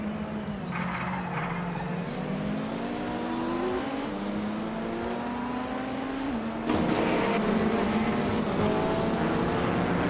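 The engine of a 2015 Mercedes-Benz 45 AMG race car in a racing video game drones steadily and loudly, its pitch sliding through gear changes, with a sharper surge of revving partway through.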